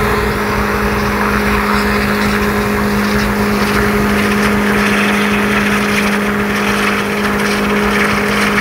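Mercedes car holding a loud, sustained engine drone with a steady tonal hum during a tyre-smoke burnout, constant and close for the whole stretch.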